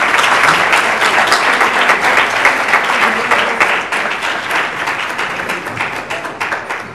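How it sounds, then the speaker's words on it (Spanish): Audience applause sending off a senator at a council meeting, a loud, steady crowd of clapping hands sustained throughout and easing slightly toward the end, with no speech over it. "Despidamos al senador con un aplauso."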